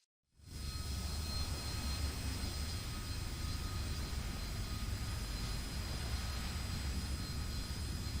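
A Harrier GR3 jet takes off in the video game War Thunder, a steady, loud, continuous engine roar that swells in within the first half second and holds without talk.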